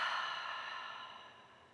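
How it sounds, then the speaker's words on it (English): A slow, steady breath is pushed out through the mouth during a power yoga cleansing-breath exercise, a soft, airy hiss that gradually fades, heard close and alone. "And another one in through the nose and out through the mouth."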